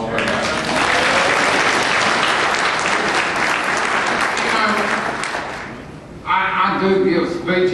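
A Virginia conference audience breaks into loud, full applause for a speaker, sustained and dense for about six seconds before fading, after which a voice begins speaking.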